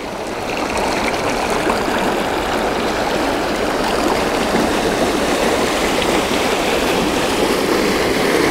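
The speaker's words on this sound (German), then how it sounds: "Ja, hier ist ganz schön Strömung, hier ist was los." Strong current on the Danube river, a loud, steady rushing and gurgling of fast-moving water close by, constant throughout with no talk.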